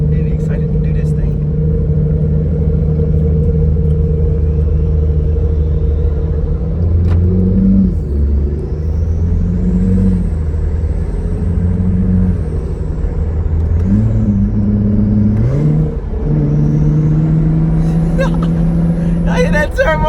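Acura NSX twin-turbo engine rumbling steadily from inside the cabin, with a deep droning tone that swells and dips as the car accelerates, a faint high turbo whine rising above it, loud and continuous under chatter from the occupants.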